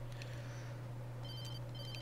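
A mobile phone rings in the video game Alan Wake, a faint, tinny electronic trill repeating a few times over a steady low hum.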